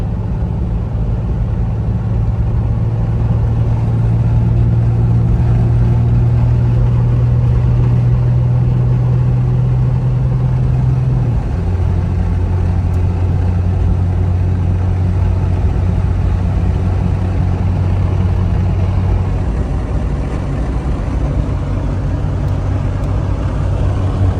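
A 1987 Jeep Cherokee XJ Wagoneer engine hums steadily while driving, a low continuous drone with a slight pitch shift partway through, alone and fairly loud with no talk.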